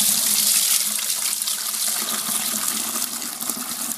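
Dirty water from cleaning sofa upholstery pours out in a steady, loud rushing stream, close and continuous with no talking.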